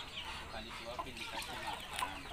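Chickens cluck softly in a backyard coop, scattered short calls over a quiet, steady farmyard background with no talk.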